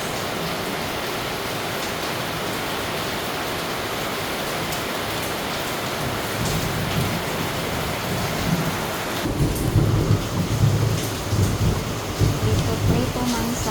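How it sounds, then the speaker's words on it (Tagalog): Heavy rain pours steadily throughout, with deep rumbling thunder swelling louder in the second half, heard close and enveloping with no talking. "Maingay kasi malakas ang ulan at saka dalugdog."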